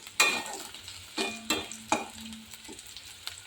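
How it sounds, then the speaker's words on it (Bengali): Frying onions with a little sugar stirred in are scraped around the pan in a few distinct strokes, each bringing a soft burst of sizzle, fairly quiet with pauses between, and no talking. "এর মধ্যে আমি একটু চিনি দিয়ে দেবো কালার হওয়ার জন্য, হালকা চিনি একটু নেড়ে দেবো।"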